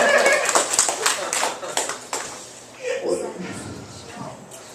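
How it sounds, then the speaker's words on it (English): A comedy-night audience at a bakery cafe claps, with a dense patter of hands filling the room for a couple of seconds and then thinning out as a comedian's voice returns over scattered claps. "Clap your hands if you knew that was coming"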